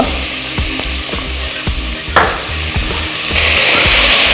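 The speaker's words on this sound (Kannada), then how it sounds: "6-7 ಸಾಂಬಾರು ಈರುಳ್ಳಿ ಹಾಕಿದ್ದೀನಿ. ಇದನ್ನು ಕೂಡ ಒಂದು ಸ್ವಲ್ಪ ಬಾಡಿಸ್ಕೋಬೇಕು." Six or seven small sambar onions sauté in oil in a pan, a close, continuous sizzle broken by regular scraping stirs, with the frying hiss rising louder toward the end.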